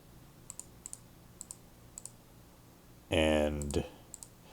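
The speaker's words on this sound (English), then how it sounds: "And I'm going to click here." Mouse clicks at a computer while painting rock texture maps in Krita, heard as a few faint, sharp paired clicks spread across the moment, with a louder brief burst of another sound partway through.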